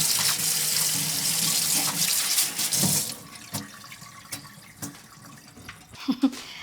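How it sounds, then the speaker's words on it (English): A tap gushes water into a kitchen sink for about three seconds, a loud bright hiss, then stops, leaving faint drips and clinks under a quiet room. "Wash your sink with hot water."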